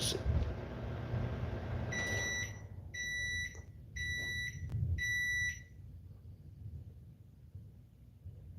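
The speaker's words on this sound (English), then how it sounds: "the microwave was going off" Indoor electronic microwave oven alarm, four evenly spaced bursts of bright, high beeping over a low rumble of rain and background noise, fairly close, then fading to the quieter hum.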